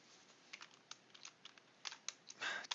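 Quick, light keystrokes on a computer keyboard, a close irregular run of soft clicks with a brief denser flurry near the end, no voices.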